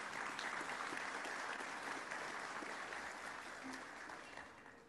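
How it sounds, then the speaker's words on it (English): Sustained applause from an audience at a chamber of commerce annual meeting in Midland, a dense wash of clapping filling the hall that holds steady and then slowly fades. "Let's give them a round of applause,"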